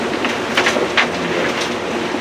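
Machinery at a diamond ore recovery plant processing Worthington Diamond Mine ore gives off a steady, even mechanical rumble and hiss, with a few brief clanks rising above the constant drone.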